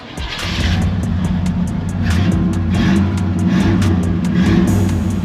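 A 1987 Chevrolet Caprice Landau engine runs loud and close, a steady deep rumble with low harmonic drone and a rapid rhythmic ticking throughout.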